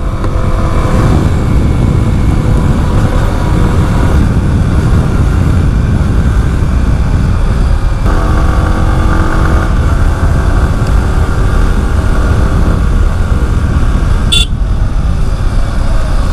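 A Yamaha R15M motorcycle engine runs steadily in sixth gear at around 5000–6000 rpm, giving a loud, continuous drone mixed with road and wind noise. A brief horn-like tone cuts in near the end.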